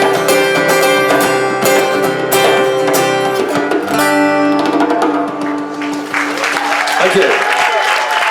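Crowd applause inside a marquee at a BBC show, rising as a live song's final sustained notes fade, then carrying on as a broad, steady clapping wash.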